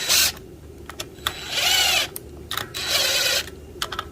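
A power tool tightens bolts on a gear reduction plate in short whirring bursts, several brief pulses and two longer runs separated by quiet pauses, close and moderately loud.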